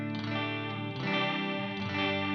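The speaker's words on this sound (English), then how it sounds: "because of that delay kind of creating that echo, almost has like a 12-string effect to it" Guitar played through a Benson Florist chorus pedal, giving a shimmering, doubled, 12-string-like tone with echoing delay, as strummed chords ring out alone.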